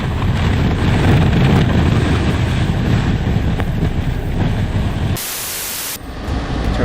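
The climate fan of a 2020 Mercedes-AMG G 63 at full speed: a loud, steady roar of rushing air blows continuously, cutting out briefly near the end before resuming.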